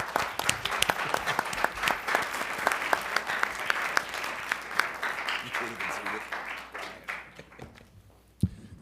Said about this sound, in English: Round of applause. You can applaud.